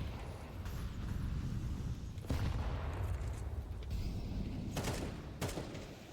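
Counter-Strike 2 gunfire in a competitive esports match, a dense broadband barrage of bursts with sharp shot transients around two and a half and five seconds, continuous and loud without clear talk over it.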